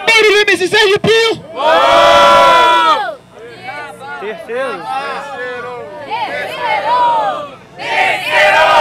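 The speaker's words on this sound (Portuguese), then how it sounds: "Barulho MC Sergipinho" A crowd at a Brazilian street rap battle, Batalha do Tanque, roars with loud cheering and shouting in repeated bursts, with chanting voices rising and falling between near-deafening swells.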